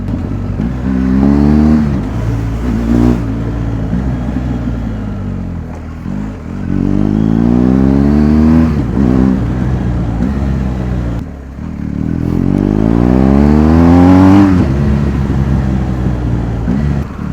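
A BMW 1250 GSA motorcycle is ridden at night, its engine loud and close, rising in repeated revving sweeps through the gears with brief dips between accelerations.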